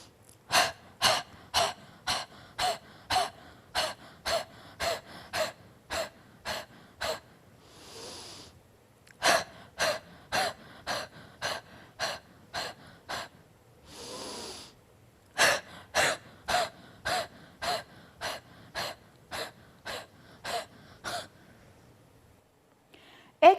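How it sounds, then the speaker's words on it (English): Rhythmic bursts of sharp, forceful exhalations come in quick, evenly spaced runs during a breathing exercise, with brief pauses and slower, deeper inhales between the sets. The breaths are close and loud, with no speech. "After panting out several times, pause for a moment, then inhale deeply and repeat the cycle."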